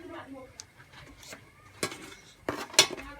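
A spoon stirring a starch-thickened mixture in a pot while making balila, a sweet wheat dish, producing scattered soft scrapes and a few sharper metallic clinks between bits of talk.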